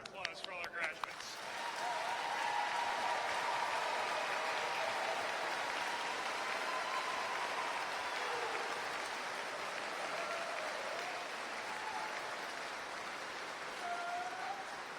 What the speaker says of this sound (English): Big round of applause for all our graduates.